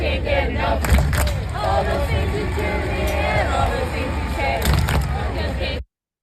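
Loud crowd chanting from soccer supporters at an FC Cincinnati match, dense voices with periodic heavy thumps that could be drums or stamping, continuing steadily before cutting off.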